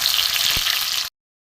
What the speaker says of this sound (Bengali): টমেটোগুলো দিয়ে আমি ভালো করে একটু ভেজে নেবো।